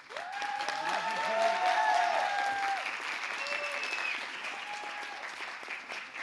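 An audience at a youth pitch event applauds to welcome a speaker to the stage: sustained crowd clapping mixed with whoops and cheers, swelling early and then easing slightly.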